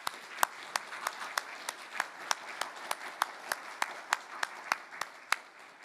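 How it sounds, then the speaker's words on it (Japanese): A small symposium audience claps at the close of a session for a robotics and industrial IoT conference, with sparse, distinct hand claps that come at a fairly steady rhythm and sound close and moderately quiet. "皆様もう一度ご登壇の皆様に拍手をお願いいたします。"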